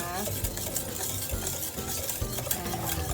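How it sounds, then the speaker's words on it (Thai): Egg yolks and sugar stirred steadily in a pot over heat to make an old-style sandwich dressing, giving a continuous soft scraping and swirling with faint utensil clinks, close and even throughout. "คนไปเรื่อย ๆนะคะ คนตลอดนะสม่ำเสมอนะ"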